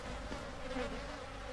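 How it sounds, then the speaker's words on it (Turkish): Flies buzz steadily around a corpse in the horror game Outlast, a faint continuous droning hum with no talking. "Öleli çok olmuş ki sinekler uçuşuyor."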